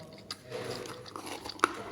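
Someone eating a sugar-free pancake, soft close chewing and biting with one crisp bite near the end, quiet and without talk.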